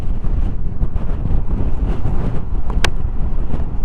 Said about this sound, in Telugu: కాకపోతే గాలి ఎక్కువగా ఉంది గైస్ ఇక్కడ, చాలా ఎక్కువగా ఉంది గాలి